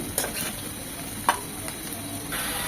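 Beef sizzles and fries in mustard oil in a pan for kala bhuna, with a steady hiss, a couple of sharp clinks of a stirring spoon and a swell of sizzle near the end.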